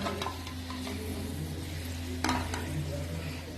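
Taro (arvi) pieces fry in a pan while a utensil stirs them, a quiet sizzle running underneath scattered scrapes and clinks of metal against the pan, one sharper knock near the end.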